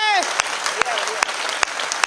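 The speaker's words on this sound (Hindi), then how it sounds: "आपकी तालियां कमजोर है मेरे दोस्त।" An audience claps in short scattered bursts, a few sharp separate hand claps over a thin wash of applause, with a speaker's voice sliding in and out over them.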